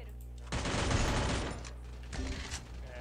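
Gunfire bursts out in Free Fire, a loud, dense volley of shots that rings for about a second before a second, shorter round of shots follows, with no talk over it.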